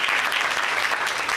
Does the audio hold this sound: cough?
no